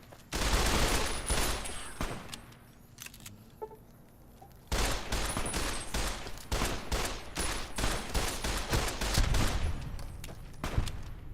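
Bursts of rapid gunfire in Fallout New Vegas, loud and close, with a dense volley early on, a lull, then sustained repeated shots to the end.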